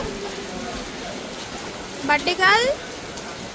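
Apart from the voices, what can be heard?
rain falling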